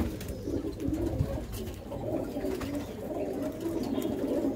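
Pigeons coo steadily and softly in a loft, overlapping low throaty calls repeating throughout with no talk.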